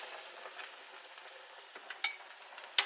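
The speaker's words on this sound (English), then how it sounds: "So you're just trying to get a quick sear on each side." Meat sears in a hot pan with a soft, continuous sizzle, broken by a few light clinks and scrapes of a utensil against the pan, the last one sharper and closer.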